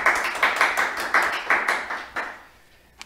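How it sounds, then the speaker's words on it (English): Clapping from a small audience for two graduating junior agents at a children's submarine-themed session: a few seconds of bright, uneven claps from a handful of people that quickly dwindle to a single last clap. "Can we get a round of applause for these two?"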